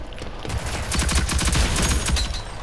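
Rapid SMG fire in a tactical extraction video game, a dense run of quick rattling shots over about two seconds, loud and close.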